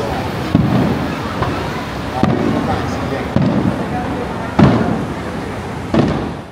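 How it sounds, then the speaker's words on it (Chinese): Fireworks show at the Keelung Ocean Eagle carnival: five loud, booming bursts spaced roughly a second or more apart, each ringing out over a continuous murmur of crowd noise. "晚上还有美丽的烟火秀登场"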